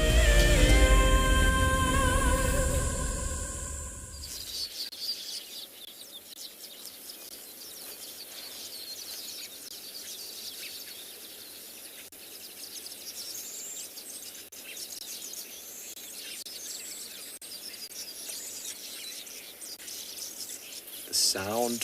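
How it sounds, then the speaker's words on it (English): Morning bird song in the African bush at sunrise, many birds calling at once in a dense breeding-season chorus, with a loud burst at the start and steady chirping and trilling throughout at moderate distance. "The cacophony of sounds, the breeding birds making their nests and attracting the females."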